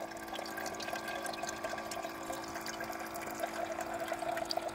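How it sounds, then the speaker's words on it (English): Water poured into a pot inside a van, a soft continuous trickling and gurgling stream, fairly faint, steady for several seconds with no voices. "I'm just putting water in the pot"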